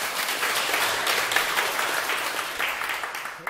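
Audience applause fills a lecture hall at a Buddhist dharma talk, steady dense clapping from many hands sustained throughout, fairly close and loud.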